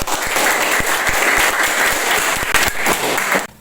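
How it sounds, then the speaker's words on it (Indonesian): Sustained applause fills a high school history classroom, a dense crackle of many hands clapping steadily for a few seconds before cutting off abruptly. "Kita kasih aplaus."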